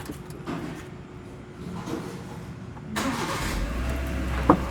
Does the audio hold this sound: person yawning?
no